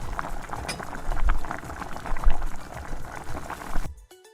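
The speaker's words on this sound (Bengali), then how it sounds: "জল দিয়ে ঢাকনা দিয়ে ঢেকে রান্না হতে দেব 5 মিনিট" Prawn curry (tel chingri) simmers in water in a pot, a continuous busy bubbling and gurgling with irregular pops, fairly close, cutting off abruptly near the end.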